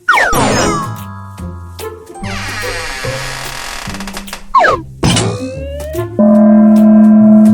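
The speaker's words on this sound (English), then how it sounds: "Now, let's try to hit the bell with the medium hammer." In a Cat in the Hat arcade video game, a hammer is swung at a strongmen-style bell: a series of cartoon thunks, whooshes and rising zips, then a bright ringing ding at the end.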